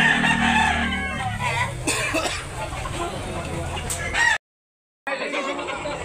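A Lemon Sweater gamefowl rooster crows on a farm in Tabunok, Talisay, Cebu. A loud nearby crow and clucking sound under someone talking, with a brief silent gap near the end.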